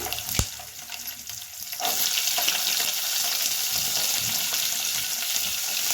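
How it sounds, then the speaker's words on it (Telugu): Cinnamon, cloves and cumin fry together in a pan for pappu charu, a steady loud sizzle running throughout after a brief knock near the start. "చూడండి, ఇలా బాగా వేయించాలి అన్నీ"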